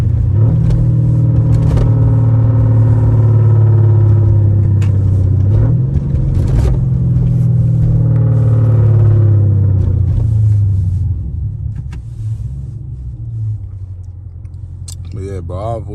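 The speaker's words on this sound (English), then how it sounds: "A little downshift." Catless Dodge Charger SRT engine droning loudly on a late-night highway, with a gear-change dip in pitch midway and a steady rumbling cruise, while someone talks over it throughout.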